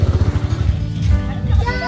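A motorcycle engine idles close by at a rural provincial home, giving a loud, pulsing low rumble throughout, with voices mixed in over it.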